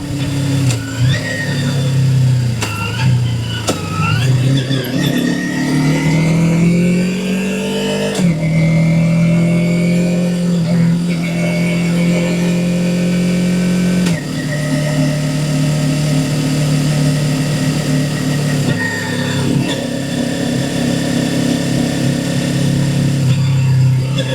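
A QJ Motor SRK 250 RA sport motorcycle with automatic shifting runs steadily and loud throughout, its pitch rising and falling as the bike speeds up and eases off while riding.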